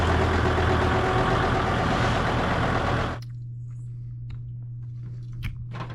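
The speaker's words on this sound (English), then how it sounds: "Tim's gonna drive the tractor over and we'll use the tractor to tie off of over on this side" A tractor engine runs loud and close in a broad, rumbling drone, then cuts back after about three seconds to a low, steady idle hum with faint clicks and knocks.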